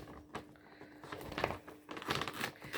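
Scissors cutting open plastic packaging, giving close, irregular bursts of crinkling and rustling that build up toward the end, with no one talking.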